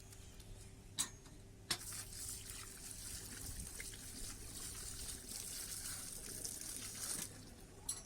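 Running water trickles softly during hand washing at a pharmaceutical plant, a faint steady flow with a few sharp clicks and knocks, no talking.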